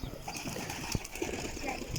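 Tumbler pigeons coo softly nearby while wings flap briefly, faint and close under a low ambient hum with a murmur of voices.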